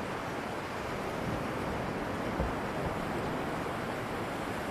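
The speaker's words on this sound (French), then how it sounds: "Et vous allez laisser le bruit des vagues" Continuous broad wash of ocean surf, a steady hissing roar of waves without distinct breaks, fairly close and even.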